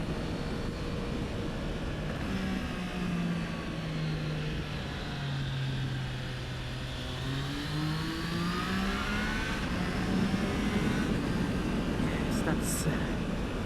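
A Triumph Trident motorcycle engine pulls hard through an overtake on bumpy country roads, its steady roar rising and falling in pitch beneath constant wind rush.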